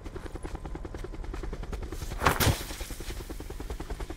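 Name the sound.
helicopter in video game Call of Duty Black Ops 4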